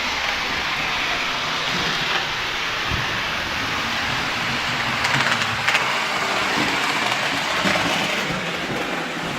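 A train races through a station at very high speed, making a sustained broad roar with rattling bursts that swells midway.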